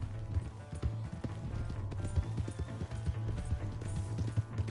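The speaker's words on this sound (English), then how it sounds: "Hey, that's my horse!" Hooves clip-clop in a fast, steady gallop as a horse runs off in Red Dead Redemption 2, fairly close and continuous, with a low engine-like rumble beneath.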